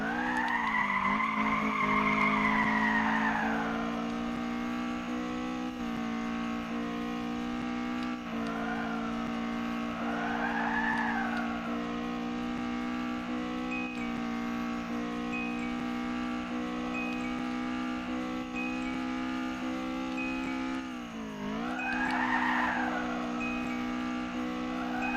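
Car grinding against a wall in the Initial D Touge Spirit racing game, a long steady engine drone with rising and falling squeals as it scrapes, loud and continuous with no talk.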